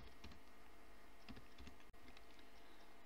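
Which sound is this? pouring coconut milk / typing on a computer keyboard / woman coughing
typing on a computer keyboard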